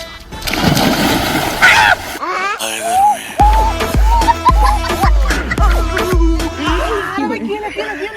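A loud, broad splash bursts up as people jump into a pond, lasting about two seconds, followed by voices talking over comic sound effects.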